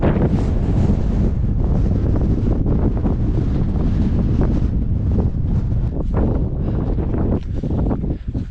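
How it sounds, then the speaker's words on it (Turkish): Strong wind buffeting the microphone outdoors at a Chaharshanbe Suri celebration in Iran, a loud continuous roar with gusty swells and no voices. "Rüzgar çok fazla kulak tırmalıyor"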